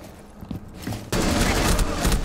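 Rapid gunfire erupts suddenly in Rainbow Six Siege after a quieter stretch of movement and scattered thuds, a loud, dense burst of shots that continues to the end.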